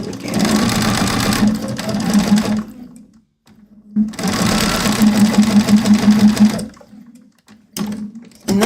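A domestic sewing machine stitches a fabric seam in two loud, close, steady bursts of rapid mechanical whirring, separated by short pauses and followed by a brief final burst.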